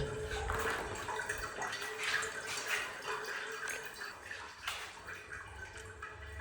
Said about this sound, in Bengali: এই যে জলগুলো এখান থেকে বেরিয়ে যাচ্ছে আবার যে বাইরে পাইপলাইন দেওয়া আছে তো সব বেরিয়ে যাচ্ছে